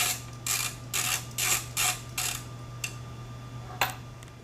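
A ratchet loosening nuts on an Ohlins shock absorber, giving five rhythmic bursts of clicking followed by a couple of short, sharper clicks, close and fairly quiet.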